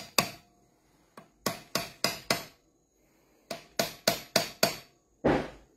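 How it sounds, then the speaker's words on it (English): Hand hammer striking a punch into a hardened steel ring die during impression die carving: sharp, ringing metallic blows in two bursts of about five quick strikes each, close and loud, with near silence between. "I'm going to go along here with my hammer and just hammer it in."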